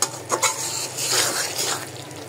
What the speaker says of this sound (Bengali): এখানে আমি আলুগুলা আগে দিয়ে দিচ্ছি